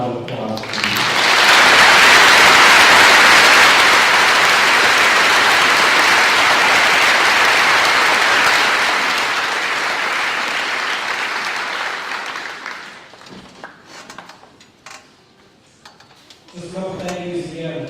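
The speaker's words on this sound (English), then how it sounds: "Would you please give a round of applause?" A graduation ceremony audience bursts into loud, sustained applause that swells quickly, holds for about ten seconds, then thins out and fades, with a voice speaking briefly as the clapping dies down.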